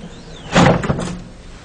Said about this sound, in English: It's sealing the bag shut, and now it's letting the air back in. And as soon as it's done, the top will open back up.